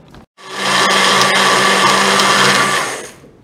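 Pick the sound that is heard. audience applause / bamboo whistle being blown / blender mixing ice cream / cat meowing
blender mixing ice cream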